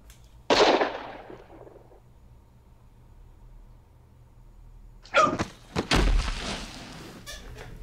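A Wild West duel gunshot in the 1-2-Switch video game: one sharp bang that decays, a quiet pause, then a cluster of further thumps and bangs.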